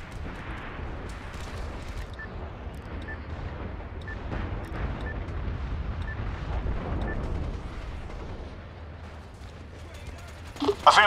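Mortar fire mission strikes in the online shooter MAG, a dense rumble of distant artillery-like blasts rolling steadily under game radio chatter, with a sharper burst near the end.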